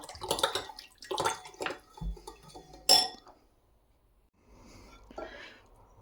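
Water is poured into a container while brine is made for kimchi with cabbage, giving splashy bursts and clinks in several short pours, then a quieter trickle near the end.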